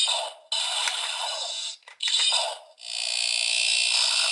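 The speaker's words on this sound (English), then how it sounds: "this is the last one to have a secret sound for when you open and close it" Power Rangers Lightning Collection Master Morpher toy giving its hidden open-and-close effect: a bright electronic burst, a short broken stutter, then a steady sustained tone, loud and close with no talking.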